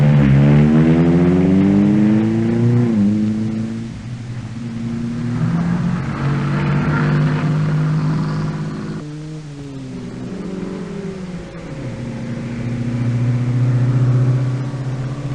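A Rootes Group Rapier rally car drives on alpine roads, its engine loud and close, revving up through the gears and dropping back as it shifts and slows, with no voices.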